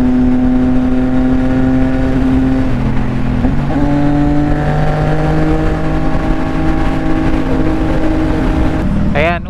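Steady engine drone of a CFMoto 675NK motorcycle cruising on the expressway to Baguio, a strong humming tone that shifts pitch briefly as gears change, with wind rush underneath and a short rising whine near the end.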